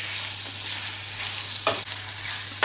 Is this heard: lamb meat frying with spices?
yes